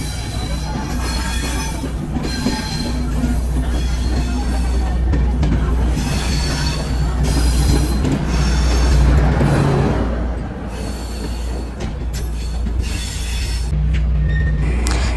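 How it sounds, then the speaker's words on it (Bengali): A passenger train being pushed backward toward the station near the Padma Bridge in Bangladesh, its cars rumbling and wheels squealing steadily and loudly for the whole stretch with continuous low rolling noise. "এই যে দেখছেন আবার ট্রেনটি পুশব্যাক করে পিছনের দিকে আনানো হচ্ছে"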